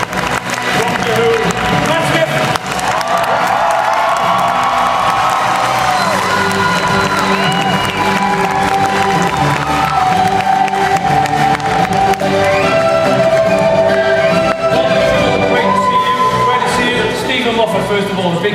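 A large convention audience at a Doctor Who cast panel in Cardiff roars with sustained cheering, whoops and applause, a loud dense crowd wall lasting throughout with music playing underneath.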